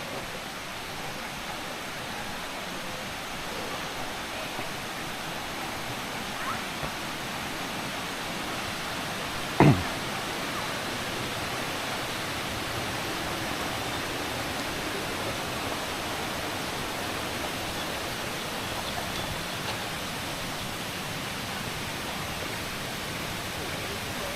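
Water flows steadily at Kledang Saiong forest eco park near Ipoh, a constant broad rushing hiss with one brief sharp knock partway through and no talking.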